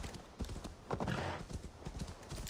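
Hooves of a horse galloping in the video game Assassin's Creed Valhalla, a quick rhythmic clip-clop running through a short stretch with a louder surge in the middle.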